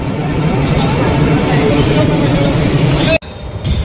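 A loud, steady rumble of a Mumbai train running close by, continuous and droning, cut off abruptly near the end.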